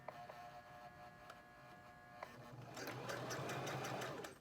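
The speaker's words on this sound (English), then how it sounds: "So I'm going to stitch it a little bit." A sewing machine stitches a frontal wig, starting with a few tentative taps and then running into a fast, buzzing mechanical chatter, close and loud, with no talk over it.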